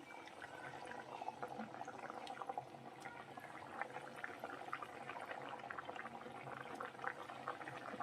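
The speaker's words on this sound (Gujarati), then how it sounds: "હવે આપણે તળી લેશું." Wheat flour chakri deep-fry in hot oil, a steady, fairly quiet bubbling and crackling that carries on evenly throughout.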